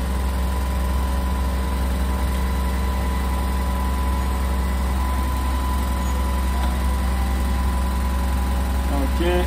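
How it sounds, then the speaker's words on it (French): Two boat engines run at idle after starting, a steady, loud low rumble with vibration that persists throughout, with brief voices speaking over it. "Démarrage, moteur bâbord. Ok, tribord."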